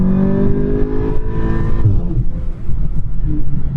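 An Audi S3 with a boost-raised tune accelerates from a 40 mph roll, its engine tone rising steadily as it pulls hard, heard from inside the cabin with constant road and engine noise throughout.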